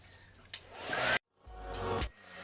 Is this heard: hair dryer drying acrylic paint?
yes